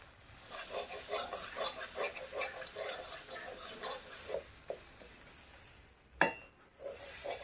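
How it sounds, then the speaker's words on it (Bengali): Spices with turmeric, salt and ground melon-seed paste frying in a pan for spinach and red lentil dal, a soft sizzle broken by rhythmic stirring scrapes, then a sharp clatter near the end. "মশলা ভাজা হয়ে গেছে"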